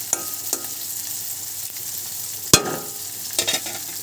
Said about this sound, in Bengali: প্রায় আমার পেঁয়াজ ভাজা হয়ে গেছে, সিদ্ধ হয়ে গেছে আর কি।